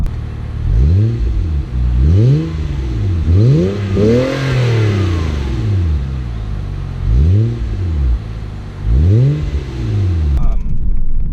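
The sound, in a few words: 2006 Mazda 6 with MagnaFlow catback exhaust revving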